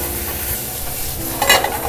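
Spinach stir-fried briskly over high heat in a professional French kitchen, a steady close sizzle and hiss with soft stirring scrapes and a brief louder crackle near the end.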